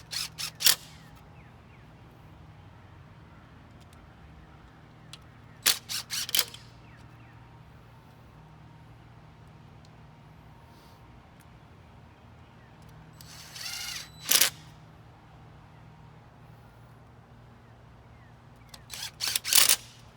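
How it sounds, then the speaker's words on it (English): A power drill drives screws into wooden trellis stakes outdoors in several short, separate bursts spread apart by quiet pauses, each a brief loud whir close by over a low steady background. "we're going to go ahead and screw those right in to secure them"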